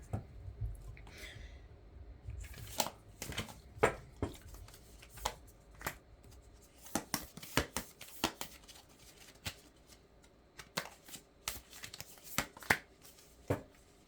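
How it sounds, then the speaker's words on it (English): Tarot cards being shuffled again and again, with sharp riffling snaps and soft slides recurring throughout, close by and fairly quiet. "I can't shuffle them any other way to pull cards."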